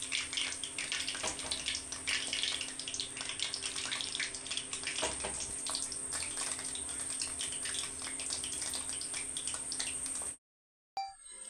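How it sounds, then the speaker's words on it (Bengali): Onion pakora batter made with gram flour sizzles steadily in hot white oil over a low flame. The dense, loud crackling hiss holds for about ten seconds and then cuts off abruptly. "এবারে পেঁয়াজের বেসনটাকে আলতো হাতে আস্তে আস্তে তেলের মধ্যে ছাড়ছি।"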